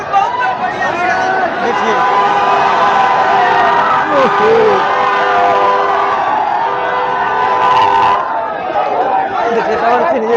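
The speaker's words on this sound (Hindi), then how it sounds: "देखिए जनसभा पवन सिंह नॉमिनेशन करने जा रहे तो इतना भीड़ है।" A dense, noisy crowd packs a hotel ahead of Pawan Singh's election nomination rally, with continuous overlapping chatter and shouting close by and a nearby voice talking over the din throughout.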